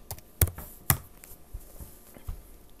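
Typing on a computer keyboard into a web browser: a few sharp, close key clicks, two louder strikes early on and then softer scattered taps, with no talking.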